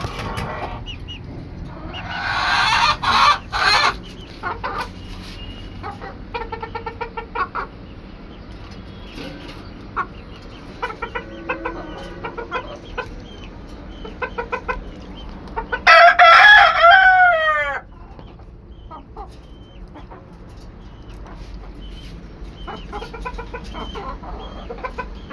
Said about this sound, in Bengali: দেখেন আমার এই দেশি মুরগিটা এখন খাবে।